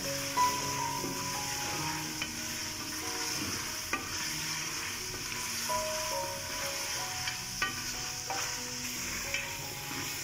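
Desi chicken fries (bhunai) in a karahi with a steady, close sizzle and hiss, broken by the scrape and clatter of stirring, continuous throughout with no voices.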